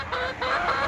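Chickens cluck and murmur close by inside a large barn, a steady busy flock sound with no voices.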